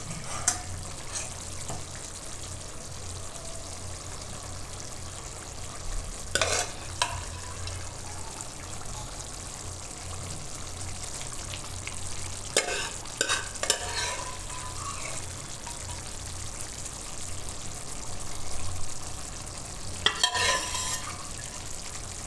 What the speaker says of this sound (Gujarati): આમાં આપણે રાજમાં બધાય એ રીતે નાખી દેવાના ને હલાવી નાખીશું, મિક્સ કરી લેવાનું આ રીતે.